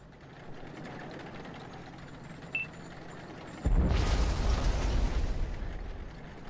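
Tank cannon fire in the World of Tanks game: after a quiet stretch with a small click, a sudden heavy boom erupts into a loud, rumbling roar that lingers for several seconds.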